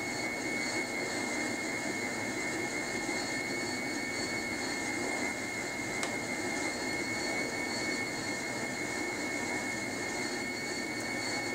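In Flight Simulator 2004, an airliner's jet engines produce a steady, loud roar with a high whine on top, constant and unbroken over several seconds of cruise near cloud level.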